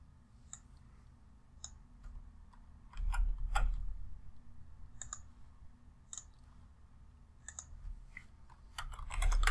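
Keyboard typing while an SQL select query is entered, sparse irregular clicks in short bursts and single taps, fairly faint, with a low hum and a louder thump midway; no talk.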